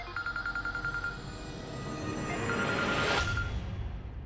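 A telephone rings in short repeated electronic trills, loud and close, pausing briefly before ringing again as a rising whoosh swells underneath.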